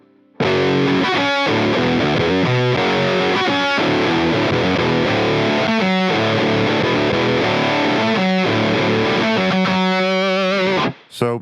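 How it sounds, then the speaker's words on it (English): Distorted electric guitar tone played through a Lekato WS 70 wireless guitar system, loud sustained chords and riffs ringing continuously for about ten seconds before cutting off abruptly. "And here's a distortion tone."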